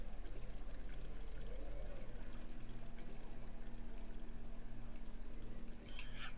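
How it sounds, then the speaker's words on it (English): A steady pour of running water from a tap in the horror game Amnesia, continuous and fairly close, with a low hum underneath and a brief clink near the end. "the water was left running."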